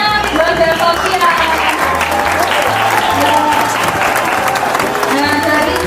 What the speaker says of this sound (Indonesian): tepuk tangan untuk kelompoknya Ridwan dan Sofian